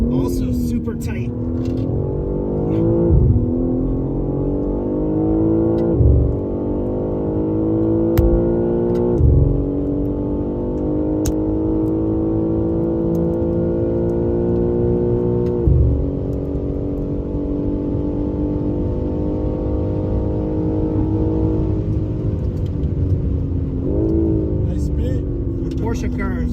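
Porsche cars driving past at a vintage racing symposium event, steady engine drone with several rising revs and gear changes, fairly close, while people talk over it.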